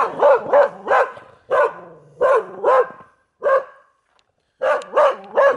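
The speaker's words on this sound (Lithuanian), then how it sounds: "Matot, visur šunys." Dogs in a residential building area barking in bursts of two or three loud, close barks, with a short pause before another cluster, and no voices.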